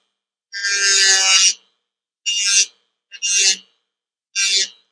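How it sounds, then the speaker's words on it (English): A trimming tool sharpened against a rotating wheel makes four harsh grinding rasps, one long contact followed by three shorter ones with silence between, loud and close with no speech. "I'm going to go counterclockwise because it's rotating clockwise."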